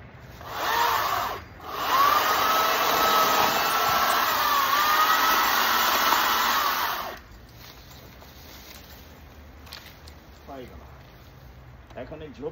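A power saw cuts small tree branches while clearing brush, whining loudly and close for several seconds with a brief dip early on, then cutting off to quieter outdoor ambience with faint voices.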